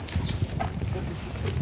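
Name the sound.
donkey hooves clip-clopping as she is driven forward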